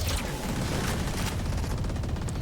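Gunfire in a Valorant college esports match: a dense, loud stretch of rapid shots and crackling impacts, close and continuous for a couple of seconds, with no talk.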